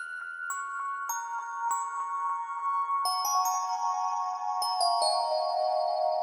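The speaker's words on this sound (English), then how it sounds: "Then we have the kind of the bell melody for the first half." Synthesizer bell melody layer from a DX7 patch in Analog Lab, a slow sequence of bright chiming notes with ringing overtones and long decays, soft and clean with no voices.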